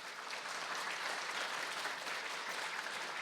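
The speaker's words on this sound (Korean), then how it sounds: "이렇게 환영의 박수로 우리 목사님을 모시도록 하겠습니다." Welcoming applause for a pastor at a New Year special prayer meeting in a church, a dense, steady crowd clapping held at an even level throughout with no voices.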